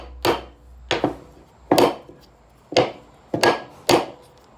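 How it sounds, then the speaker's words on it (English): A Festool Domino tenon is driven into heavy wood with a hammer, six sharp, loud wooden knocks spaced roughly evenly, each followed by a short ring, with one strike closely doubled. "just give it a couple of shots with a hammer"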